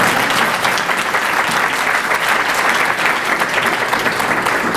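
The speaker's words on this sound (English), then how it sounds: "Yeah, you can clap for that." Sustained applause from an audience at a 2014 county business forum, a dense, steady wash of many hands clapping close by, loud and unbroken throughout with no talk over it.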